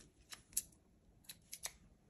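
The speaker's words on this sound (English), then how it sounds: "Scissors." Scissors snipping loose threads from fabric while sewing an elastic dog bandana, several short crisp snips spaced irregularly, close and fairly quiet with no talking.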